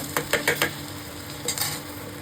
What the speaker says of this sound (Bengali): দিয়ে দেবো 1 চামচের মতো রসুন কোচানো। ভালো করে এটা ভেজে নেব।